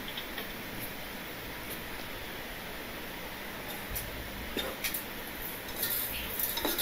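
Onions and garlic being sautéd in a pan for vegetable kichadi make a soft background hiss, with scattered light taps and scrapes from a spoon stirring against the pan.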